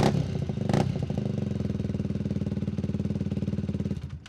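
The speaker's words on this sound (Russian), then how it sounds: "Характерный звук двигателей." Motorcycle engines at a biker gathering in an open lot, a loud, close, steady rhythmic chug of an idling or slowly rolling bike with a rev near the start, fading at the end.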